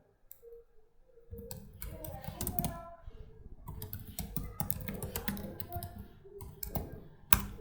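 Computer keyboard being typed on to enter a domain name, irregular bursts of close, crisp key clicks with short pauses between them, quiet overall.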